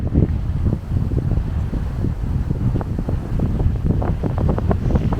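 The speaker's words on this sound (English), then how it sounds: "And it's a little windy today." Steady wind on the Florida coast by choppy water buffets the microphone in low, continuous rumbling gusts, with some rougher bursts toward the end; no voices.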